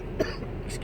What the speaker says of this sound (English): I seem to have this cough.